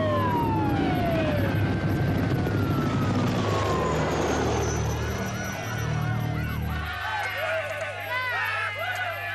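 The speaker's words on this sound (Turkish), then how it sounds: "Duydunuz mu? Sirenler." Police sirens in a Turkish-dubbed action film wail in sweeping, falling tones over a dense, noisy background, with a faint voice mixed in.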